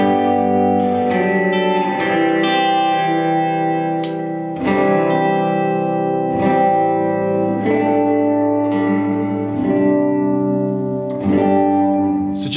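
Electric guitar played through a Fender Tre-Verb pedal, with tremolo and reverb applied to a series of strummed chords that ring out with a wet, washy tail and a pulsing swell.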